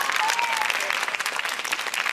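A circus audience at the Montini international circus show claps steadily, a dense, continuous wash of applause with a voice audible over it.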